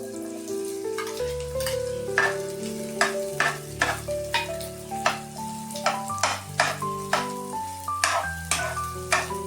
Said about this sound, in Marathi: गरम झालेला आहे, आपण याच्यात आता कांदा टाकूया